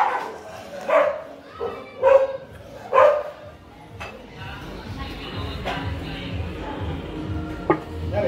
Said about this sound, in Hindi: गली का कुत्ता हमारा जॉनी जो है ना, ये सबको काट लेता है।